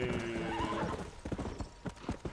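A horse in the Red Dead Redemption video game gives a whinny, then its hooves clip-clop in a few uneven beats at close range.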